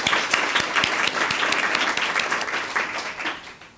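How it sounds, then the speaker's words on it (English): Audience at a student of the month breakfast event gives a round of applause, moderately loud clapping that swells and then gradually tapers off. "Let's give them one last round of applause."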